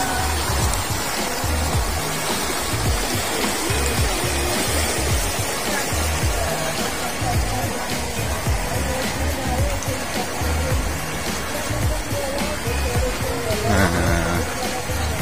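A river flowing near an Indonesian fishing spot, a steady loud broadband rush of water running continuously, with a voice speaking faintly over it.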